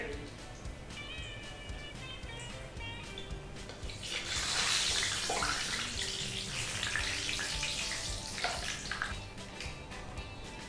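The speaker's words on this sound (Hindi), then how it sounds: "अब इसको हम लेंगे और इस तरह से तेल में डालेंगे।" Spinach (keerai) vada batter drops into hot oil, and a bright hissing sizzle swells midway and lingers over a steady, low background.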